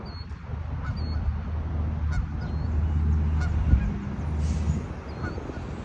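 Birds call with short honking cries over a steady low rumble, fairly distant and continuous throughout.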